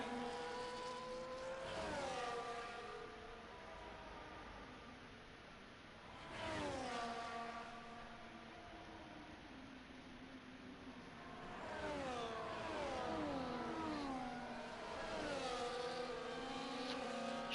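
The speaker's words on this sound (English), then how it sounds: "See a little bit more action on track as these cars go around" Formula 1 race cars in a video game at the Japan round roar past one after another, engines rising and falling in pitch as they shift through gears around the track behind a safety car, fairly quiet and continuous.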